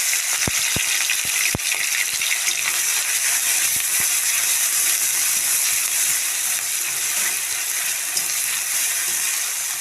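Onion, ginger and garlic paste fries in hot oil left over from frying eggplant, giving a steady loud hiss with a few sharp pops near the start and no talking.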